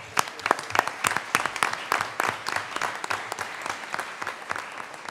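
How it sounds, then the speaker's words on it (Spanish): A room of people at the 2018 Manuel Elkin Patarroyo awards ceremony claps steadily, individual claps distinct and crisp, moderately loud and continuous. "No está aquí, pero le aplaudimos a Carlos."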